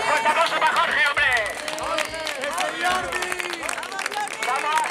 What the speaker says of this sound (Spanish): fuerte aplauso para Jorge